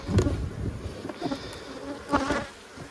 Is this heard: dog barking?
no